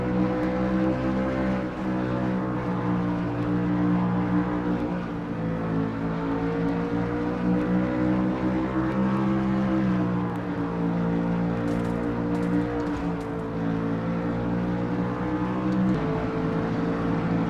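Race car engines roar steadily from a NASCAR-style sim racing game at a short-track Food City 500 event, a dense layered drone of multiple cars with shifting pitch as they accelerate and lift, continuous and fairly loud throughout with no talking.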